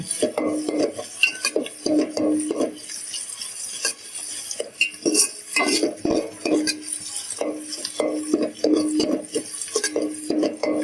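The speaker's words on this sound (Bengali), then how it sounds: "পেঁয়াজটাকে বাদামি কালার হওয়া পর্যন্ত এইভাবে নেড়ে চেড়ে ভেজে নেব" Onions and garlic frying in oil in a pan while being stirred for plain pulao, with repeated bursts of utensil scraping and clatter over a steady sizzle, close and fairly loud.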